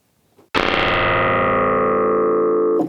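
Electric piano chords heavily crushed by the Kalide Collage compression plugin, a single dense, distorted sustained block that starts abruptly, holds loud and flat for over two seconds, then cuts off, with no talking.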